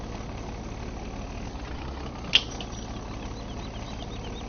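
A vehicle engine hums steadily at low speed in Farming Simulator 17, a constant mid-low drone with one brief sharp click partway through.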